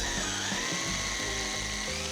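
A power drill bores a larger hole in a wall for toggle bolts while hanging an IKEA floating shelf, giving a loud, steady whine close up that runs without a break.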